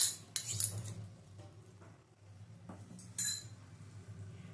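A spoon mixes beaten sour yogurt into pulao in a pot, giving faint, scattered metallic clinks and scrapes against the cookware, quiet and close.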